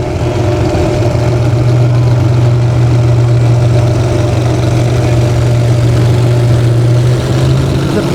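A big John Deere farm tractor engine of 500 to 600 horsepower runs at a steady, loud, low drone with a strong constant hum, close by and unchanging, with no voices.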